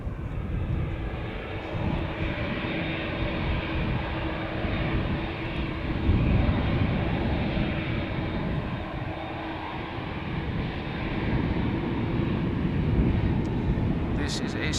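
A KLM Boeing 787-9 Dreamliner departs Amsterdam Schiphol for Calgary, its engines a loud, sustained broadband roar that swells and holds from start to finish while someone talks over it.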